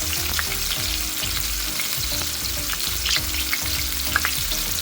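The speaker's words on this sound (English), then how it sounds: "Make sure all corners are nicely seared" Turkey tenderloin sears in a hot pan with a steady, close crackling sizzle, broken by scattered pops and sputters of fat, no voices present.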